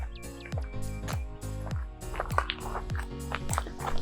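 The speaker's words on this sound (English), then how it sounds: "I'm starting to hear water. I don't know if you can hear it on the camera. It's just kind of a faint trickle in the background as of yet" Water trickles near a hiking trail after a week of heavy rain, heard as quiet, irregular bubbling drips and plinks that repeat throughout at close range.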